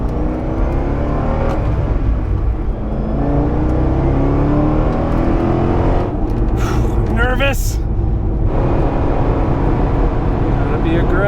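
Car on a race track driving an out lap, a steady engine drone and whirring road noise close up, with brief rising rev tones in the middle.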